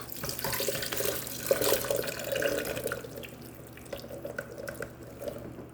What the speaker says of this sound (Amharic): ከዛ ውሃውን እጨምረዋለሁ ማለት ነው።